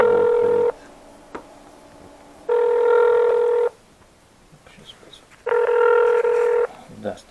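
A telephone calls Russia's 112 emergency number in Kaliningrad and gives three long, steady ringback tones separated by pauses. The line is clear and loud, with faint background noise in the gaps.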